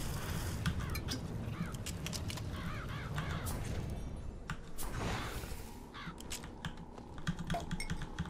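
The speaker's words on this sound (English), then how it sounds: "These birds have ruined this great feast" Crows caw repeatedly in the video game Bioshock Infinite, harsh calls recurring over a steady, dense background of game ambience and clattering noise.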